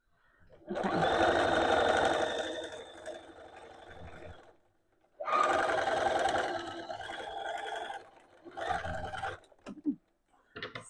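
Two long runs of a sewing machine stitching knit dress seams, steady buzzing whirs broken by a pause, then short stop-start bursts at the end.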